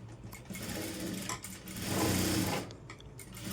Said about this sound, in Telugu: ఈ పీస్ని ఇలా తిప్పేసి ఇక్కడ ఒక స్టిచ్ వేసుకోవాలి